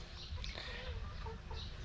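Soft chicken clucking in a Filipino backyard, faint and intermittent beneath a steady outdoor background hum, with a few scattered short calls and no clear talking.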